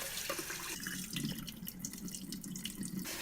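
Rice for raspberry makgeolli rinsed under a running kitchen tap, a steady close rush of water splashing into the grains in a sink, with no voices.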